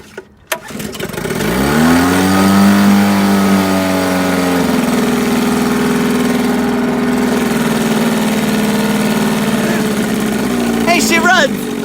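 A 1958 Sea King 5 outboard motor starts after a few knocks and runs loud and steady. It holds a constant droning hum for about eleven seconds.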